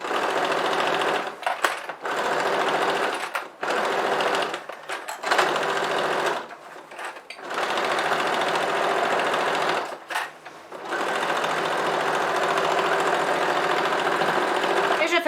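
A sewing machine stitching fabric for the bottom and sides of a cloth bread basket, loud close whirring bursts of rapid stitching broken by short pauses, with no speech.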